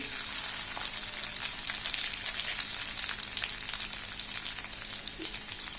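Mustard seeds, cumin and crushed garlic fry in hot oil for a cabbage and moth bean dish, giving a steady, close crackling sizzle with scattered pops that holds at an even level throughout, with no talking.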